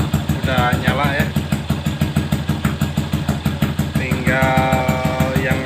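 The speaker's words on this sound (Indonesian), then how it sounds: "mesin udah nyala ya" Yamaha Jupiter Z 125cc motorcycle engine idling close by with a steady pulsing rhythm, while someone talks over it.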